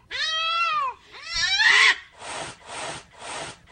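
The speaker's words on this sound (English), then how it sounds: "Cat was a little ticked off at us this morning." An irritated cat lets out a long, drawn-out complaining yowl, then a second rising one, followed by several short rhythmic rubbing or scratching sounds close by, with no talk.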